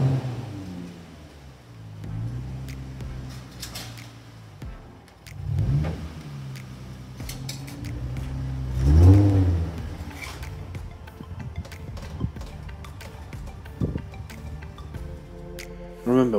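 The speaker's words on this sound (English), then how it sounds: "we are going to load the car onto this Brian James A4 transporter." A car drives slowly onto a Brian James A4 car transporter trailer, its engine rising in short low revs and rolling thumps as it climbs the ramp.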